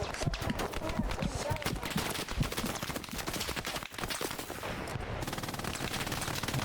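Machine gun fire rattles in steady rapid bursts during a battle in the video game Hell Let Loose, loud and dense throughout, with players talking over it.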